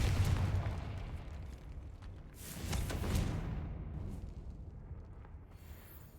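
Confringo blasting spell explosion in Hogwarts Legacy, a moderately loud burst with a rumbling boom that swells again in the middle, then fades into a dull decaying tail.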